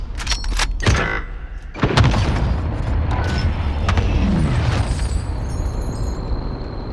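Heavy explosions from a called-in fire strike in a Call of Duty match, with several sharp blasts at the start followed by a long, loud rumbling barrage of booms and rolling detonations.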